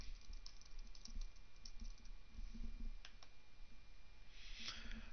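Quiet, scattered keystrokes on a computer keyboard as a name is typed, set against a steady hiss with no voice.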